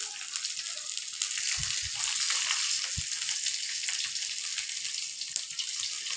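Chopped garlic hitting hot oil already used for frying potatoes and eggs, a steady hissing sizzle with a few low thumps and splashy bursts, close and continuous.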